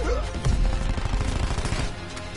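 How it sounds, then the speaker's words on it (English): Rapid automatic gunfire from the video game Black Ops 4 rattles out in a dense, loud burst lasting a couple of seconds. "I tried shooting his dead body"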